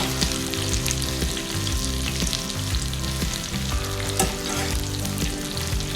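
Gnocchi and nuts fry in a hot pan, a dense, close sizzle with crackles and stirring scrapes running continuously throughout, no voices present.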